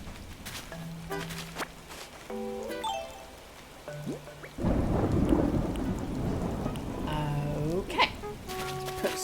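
Thunderstorm with rain on an island in a video game: steady rain hiss with a loud rumble of thunder breaking in midway, mixed with short tonal game jingles and chimes, no talk.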